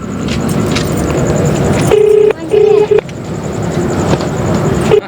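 Touch-tone phone dialing in a village in Bundelkhand, India: a few short clear DTMF beeps in a quick cluster, then another lone beep, over background hum and traffic-like noise.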